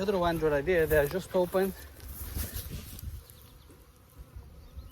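Honeybees pour out of a fully opened bottom hive entrance during a colony split, a dense insect buzz that carries on beneath someone talking early on and then continues alone, steady and close.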